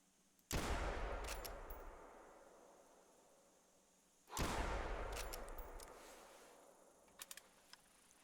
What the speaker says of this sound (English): I'll put one more shot down the range and see if we can hit it.